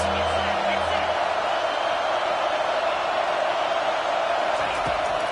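A stadium crowd at a university football game, a steady roar of cheering and noise on a big third down, filling the whole stretch with continuous broadband sound and no clear breaks.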